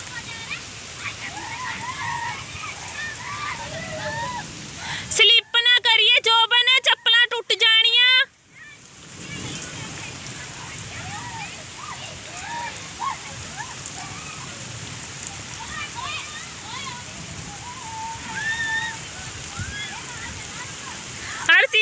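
Steady summer rain patters on surfaces, with lively children's voices and shouts of children splashing mixed in throughout and a brief burst of close chatter partway through.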